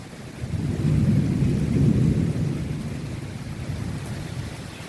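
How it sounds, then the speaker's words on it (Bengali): Heavy rain pours steadily through a thunderstorm while a deep thunder rumble swells and rolls close by, the downpour hissing on without any voices. "একদম বৃষ্টি শুরু হয়েছে, আর ভীষণ বিদ্যুৎ চমকাচ্ছে আর মেঘ ডাকছে"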